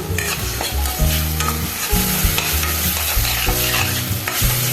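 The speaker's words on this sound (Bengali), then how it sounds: "আবার এটাকে একটু ফ্রাই করে নিচ্ছি।" A paste of ginger, garlic and green chili sizzles loudly in a pan, with steady scraping and stirring strokes repeating in a loose rhythm close up, and no talking.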